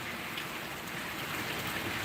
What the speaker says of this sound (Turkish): Çok güzel yağmurlar yağıyor.